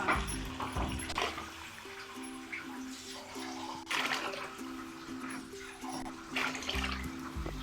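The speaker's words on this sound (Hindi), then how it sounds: "तो इसके अंदर अब हम पानी ऐड कर रहे हैं।" Water poured from glasses into a pot of rice for chana pulao, a continuous splashing pour with a few louder surges, close by, no talk.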